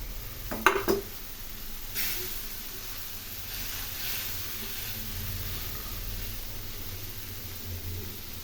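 Fried fish pieces go into a simmering fish curry in a pan, with a quick metallic clatter as they are stirred in, then a steady low bubbling and sizzling that runs on alone.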